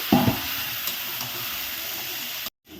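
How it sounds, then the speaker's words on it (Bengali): Vegetables dropped into hot oil in a pan for labra, Bengali mixed vegetable dish with turmeric, give a steady close sizzle and hiss with a brief louder burst at the start, then the sound cuts off abruptly near the end. "এর মধ্যে এখন আমি সবজি ছেড়ে দেবো"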